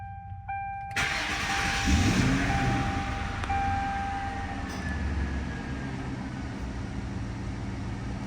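The V8 of a 2003 Mercury Marauder cranks and fires after a short warning chime, then settles into a loud, deep, rumbling idle that stays steady and close for several seconds, with no one speaking.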